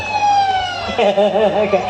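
A siren wails, holding a steady tone, then switching to a rapid warbling yelp, with traffic noise and a bit of background talk.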